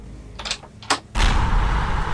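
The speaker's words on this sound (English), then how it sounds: "A sudden bang and rush of air triggered what pilots call the startle effect" A sharp bang as an aircraft's cockpit door bursts fully open during the climb out of Venice, followed by a loud, sustained rush of air and wind roar that fills the cabin after a few brief knocks.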